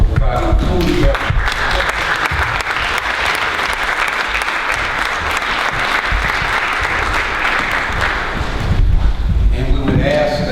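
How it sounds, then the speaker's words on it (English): Crowd at a county leaders' meeting on hate crimes gives a round of applause to Anne Arundel County Police Department members, loud sustained clapping from many hands with a few voices mixed in, filling the room for about ten seconds. "please stand so we can give them a round of applause for providing food and beverage"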